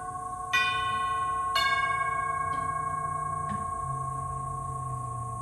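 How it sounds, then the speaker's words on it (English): NuTone tube chime doorbell ringing, metal tubes struck in a sequence of about four clear ringing tones that sustain and slowly fade, close and loud in a quiet room. "let me see if I could hit the doorbell"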